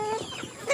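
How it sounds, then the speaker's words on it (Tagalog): Chickens clucking close by in a short, fairly quiet burst of a few uneven clucks, with no talking. "masaya naman itong mga manok na dahil tuyo na yung mga kanilang mga balahibo"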